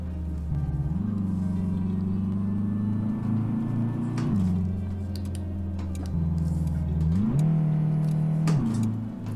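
A Renault 9 car modded into Euro Truck Simulator 2 hums along a road with a low engine drone, revving up and settling back as gears change several times, with faint keyboard taps in the background.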